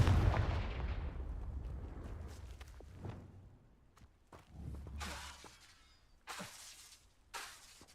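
Confringo blasting spell cast in the video game Hogwarts Legacy, a sharp shattering explosive burst that decays, followed by several smaller cracks and bursts spaced apart, with no talk.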